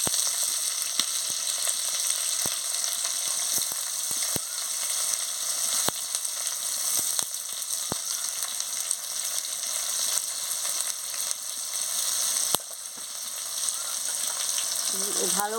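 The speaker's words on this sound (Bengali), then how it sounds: "ভালো করে পেঁয়াজটাকে ভেজে নিচ্ছি।" Chopped onion with whole cumin frying in oil for a soybean and papaya curry, a steady close sizzle running throughout with scattered small crackles and pops, no voices.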